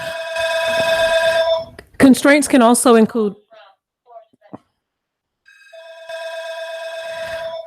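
Landline telephone bell ringing in long electronic bursts at the start and end, loud and close, broken by a person speaking in the middle.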